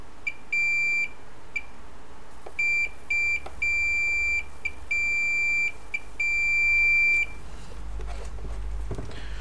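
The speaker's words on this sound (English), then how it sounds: "So that's beeping." A multimeter's continuity tester beeps while probing an iPhone 11 Pro motherboard, giving a series of clear high-pitched tones of varying length, some short and some over a second, with quiet pauses and faint handling noise between them.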